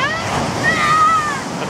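Ocean waves wash onto a beach as the tide comes in: a brief, close rush of surf with wind noise throughout.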